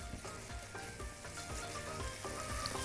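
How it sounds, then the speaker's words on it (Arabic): Onions with a pinch of sugar sauté in a pan for mujaddara with carrots, a steady soft sizzle with faint crackles and the occasional stir, close and quiet, with no voices. "نبتدي بقى نشوح البصل مع بعض"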